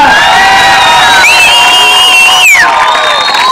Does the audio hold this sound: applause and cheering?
yes